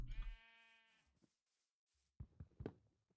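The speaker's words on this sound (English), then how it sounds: "Sheep!" Minecraft sheep bleating in a modded survival game, a clear harmonic bleat at the start followed by quieter knocking, blocky game sounds.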